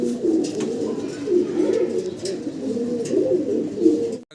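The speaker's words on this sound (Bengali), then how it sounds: "এটা রানিং জোড়া, ডিম বাচ্চা করা কবুতর।" A pair of satin pigeons coos close by in a cage on a farm, a loud, continuous, rolling series of low coos with no talking.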